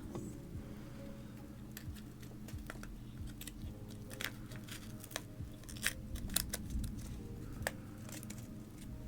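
Quiet, irregular snips and crisp clicks of scissors cutting, scattered over a soft background hum, growing a little busier toward the end.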